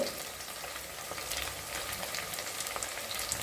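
Onions sauté for tomato rice, frying in a pan with a steady, close sizzle and light crackle running throughout.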